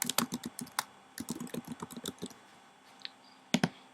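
Close, crisp clatter of typing on a computer keyboard: quick bursts of keystrokes, a brief pause, then a few isolated clicks near the end.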